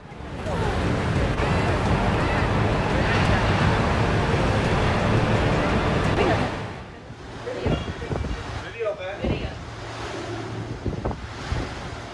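Loud roaring storm surf and wind batter the microphone for several seconds, then drop away to quieter splashing water with a voice speaking.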